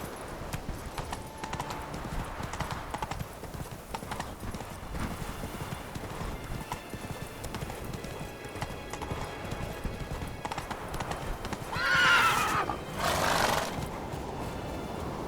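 Hooves clip-clop steadily from a horse in The Witcher 3 video game, a continuous galloping rhythm with a louder neigh-like burst near the end and faint talk in the background.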